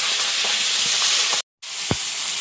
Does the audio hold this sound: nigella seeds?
yes